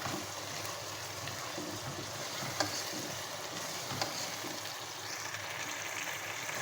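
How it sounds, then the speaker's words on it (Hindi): Crushed chillies frying in a pan, a steady close sizzle with faint stirring scrapes and a couple of light clicks, no talking. "कुटी हुई मिर्चें शामिल की हैं, अच्छे से फ्राई कर लेंगे"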